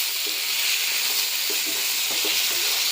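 Vegetables frying in hot oil give a steady, close, loud hiss and sizzle that holds without a break, with faint crackles here and there and no voices.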